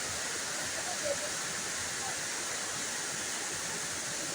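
Elephant Falls in Meghalaya, a waterfall roaring as a steady, even wash of broadband noise, constant and unbroken throughout, heard alone without speech.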